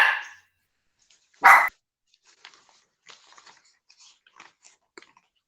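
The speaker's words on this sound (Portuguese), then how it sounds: "Tem uma cachorra latindo aqui, indignada, que está com fome." A hungry female dog barks indoors: one loud bark near the start and another about a second and a half later, with faint scattered clatter and small noises in between.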